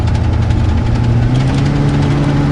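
Engine of a 1978 GMC Palm Beach motorhome climbing a mountain grade at about 30 mph, a loud, steady low drone with a rising pitch and a rhythmic cycling pulse, heard close from inside the cab with no talk.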